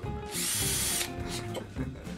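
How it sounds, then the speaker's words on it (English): A power drill whirs loudly for about a second, then winds down, followed by softer clatter nearby. "you're gonna want to drill holes in the top of that"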